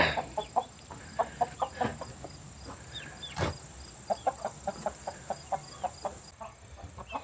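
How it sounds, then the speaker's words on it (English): A hen clucks repeatedly in short, rhythmic bursts, close by, with a brief pause midway before the clucking resumes. "And then up here is the hen."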